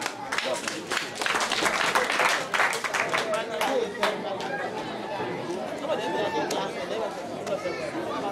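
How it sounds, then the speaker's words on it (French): Audience applause at a local association's donation handover to pupils and teachers, a steady wash of clapping mixed with crowd chatter and voices throughout, fairly close and sustained. "On peut quand même applaudir"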